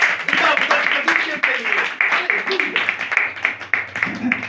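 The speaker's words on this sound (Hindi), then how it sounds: "एक बार फिर से जोरदार तालियां।" Loud applause at a Christian sermon gathering, a crowd clapping in uneven bursts with cheers and voices mixed in, plus a low hum near the end.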